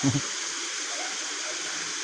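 Small river stream flowing on a mountain slope in Banjarnegara, a steady soft rushing wash of water throughout, with a brief voice at the start.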